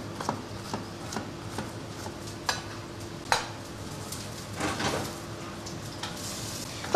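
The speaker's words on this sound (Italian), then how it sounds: "Poi mettiamo un po' d'olio d'oliva. Quindi iniziamo dal classico soffritto." Olive oil soffritto sizzling in a pan for a bean dish from Geraci Siculo, a soft steady fry with scattered clinks and stirring taps of utensils, no one talking.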